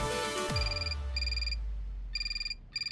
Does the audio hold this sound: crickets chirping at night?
no